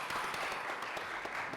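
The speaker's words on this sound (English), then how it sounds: "they deserve a round of applause" Audience at a UNECE public-private partnership forum applauds the panelists, a short burst of steady, moderately dense clapping in a hall.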